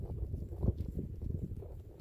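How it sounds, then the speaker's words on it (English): A Kentucky Mountain gaited horse walks outdoors back toward the barn, its soft, low hoofbeats thudding in an even rhythm under steady wind noise. "Little bonus video of Prince walking back to the barn."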